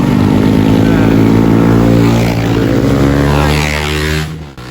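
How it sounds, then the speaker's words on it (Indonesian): A motorcycle fitted with a loud aftermarket knalpot brong exhaust blasts past, a harsh booming roar with rising and falling pitch that swells up close and then fades. "Berikut cuplikan pencemaran suara akibat knalpot brong"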